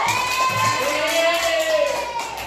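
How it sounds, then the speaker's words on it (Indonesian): A group of children in a classroom session cheers and shouts with scattered clapping, high voices rising together in a lively, sustained burst close by. "tepuk tangan dulu untuk Kabila."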